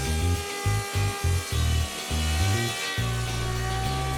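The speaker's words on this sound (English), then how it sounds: "Here we have lots and lots of, you guessed it, planing." A power planer rips across wooden boards for a farm table, its steady mechanical whine broken by choppy, stuttering passes of the cutter biting into the wood, loud and close throughout.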